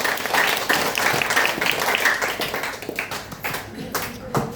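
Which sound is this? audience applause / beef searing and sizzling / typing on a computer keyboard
audience applause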